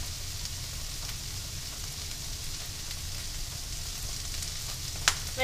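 Tofu and sweet peppers with sweet corn stir-frying in a pan, a steady, close sizzle running throughout with a faint clink near the end.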